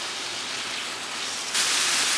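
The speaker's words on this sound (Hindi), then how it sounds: "लहसुन और अदरक के पेस्ट के साथ इसे अच्छे तरीके से हम भूनेंगे तेज़ आंच के ऊपर" Minced meat frying hard over a high flame with garlic and ginger paste for samosa stuffing, a loud continuous sizzle that grows more intense toward the end, with no talking.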